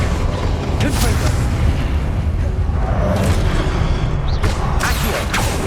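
An explosive Confringo spell goes off in the Hogwarts Legacy video game, a dense rumbling blast with bursts of crackle layered over constant loud game noise and scattered effects.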